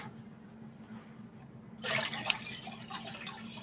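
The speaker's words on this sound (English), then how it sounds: "Dump a little bit of this water in here and then dump the rest of it over there." Cleaning water is dumped out of a bucket. After a quiet start there is a sudden splash and pour midway through, followed by a short spattering tail.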